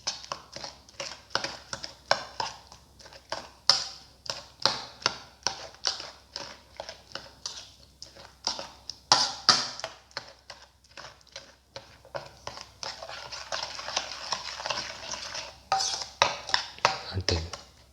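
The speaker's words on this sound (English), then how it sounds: "Mix thoroughly." Watermelon and orange pieces being stirred with sugar in a bowl, giving a steady run of close, soft clinks and wet squelches with short pauses, no talking.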